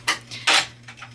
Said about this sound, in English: playing with blocks literally like 2 feet from me